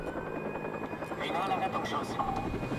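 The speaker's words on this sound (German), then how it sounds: "Helikopter." A police helicopter in the video game Watch Dogs whirs steadily in the background with a droning rotor hum, while a voice speaks over it in German.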